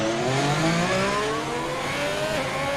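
Race car engine in a racing video game, set at Singapore's Marina Bay Street Circuit, revving steadily with rising and falling pitch sweeps and a glitchy drone, loud and continuous throughout.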